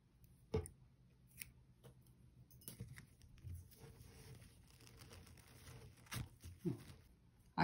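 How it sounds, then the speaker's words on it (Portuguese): Scissors snip the yarn on a crocheted bag in a quiet room, a few sharp cuts spread apart with soft handling rustle between them. "Aqui eu vou cortar o fio."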